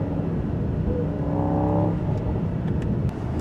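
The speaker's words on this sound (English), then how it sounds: "But this thing here honestly sounds like the 2018 AMGs. Look at this here. It's very deep, growly." A 2024 Mercedes-AMG GT63 coupé on the move, its engine giving a deep, steady growling rumble heard from close by, with a brief swell in revs partway through.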